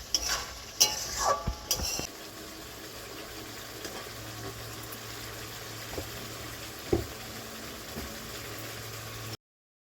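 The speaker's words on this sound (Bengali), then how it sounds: "ভালো করে নেড়ে চেড়ে মশলার সাথে আলুগুলো মিশিয়ে দিচ্ছি" Potatoes being stirred with spices in a pan for a Bengali vegetarian doi kathal (jackfruit in yogurt) dish, with a few clattering scrapes early on, then a quiet steady sizzle and occasional soft knocks.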